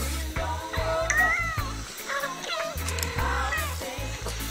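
A cat meows several times in short rising cries, layered over loud reggae music with a thumping bass beat playing throughout.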